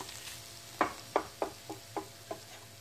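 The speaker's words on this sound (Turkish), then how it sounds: "Bu şekilde gördüğünüz gibi kavuruyorum." Eggplant sautéing in a pan, stirred in six distinct scraping strokes at a steady rhythm over a low, continuous sizzle, close and fairly quiet.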